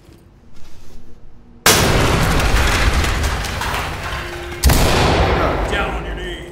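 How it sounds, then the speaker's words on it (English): A flashbang grenade goes off in the tactical shooter Ready or Not, a sudden loud broadband blast at about 1.7 seconds followed by a second burst near 4.7 seconds, each with a long ringing decay, after quieter muffled sounds. "C2, flashbang it and clear it."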